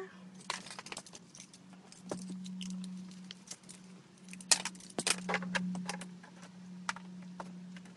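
Car keys jangle up close by a Mazda RX-7, light metallic rattles and clinks in scattered bursts, quiet and alone.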